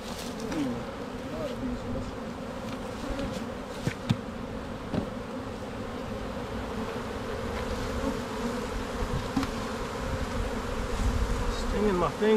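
A dense, steady hum of many honeybees buzzing close by as Italian queen cells are placed in mating nucs, continuous throughout, with occasional soft handling noises and no talking.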